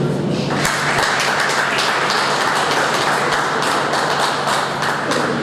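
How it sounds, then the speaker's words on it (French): Audience at a solidarity gala breaks into sustained, dense applause that starts abruptly and holds steady and loud, with many individual claps and some thumps filling the hall. "je vous demande de vous applaudir"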